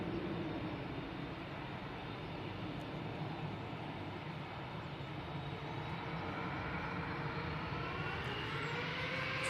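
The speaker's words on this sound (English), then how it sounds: "Emirates. Now, entering runway 23 left here at Manchester Airport for its flight back to Dubai." An Emirates airliner entering runway 23 left at Manchester Airport, its engines giving a steady distant whine and rumble that stays level.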